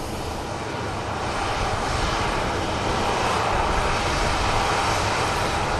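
Airliner in flight to Dublin, a steady, loud roar of engine and airflow that holds unbroken throughout, with no talk.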